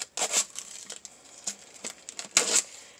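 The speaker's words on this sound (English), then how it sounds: "using a steak knife is easier to go under the label and pop it" A steak knife slides under the label of a plastic soda bottle and pops it loose, giving a few sharp crinkling, crackling bursts of plastic film, close and moderately loud, with short quiet gaps between them.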